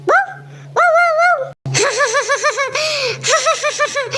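A human voice imitates a dog barking: a few drawn-out howl-like calls, a brief gap, then a quick run of rhythmic yapping barks mixed with giggly laughter, close and loud.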